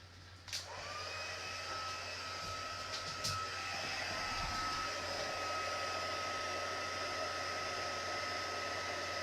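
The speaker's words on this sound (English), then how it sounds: "I gotta bring in my heat tool, so sorry, it's gonna get loud for a minute" An embossing heat tool blows with a steady loud whirring hiss after a couple of small clicks, running continuously throughout.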